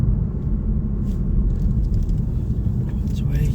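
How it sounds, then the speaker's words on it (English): A car's engine rumbles steadily close by as it drives, with a soft voice murmuring over the low drone and light rain. "So I'm going to park the car up just down here"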